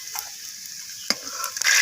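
Potatoes tossed with food colouring fry in hot oil on a wood-fired stove for chicken biryani, giving a steady soft sizzle with a brief knock partway through and a louder burst of frying at the end.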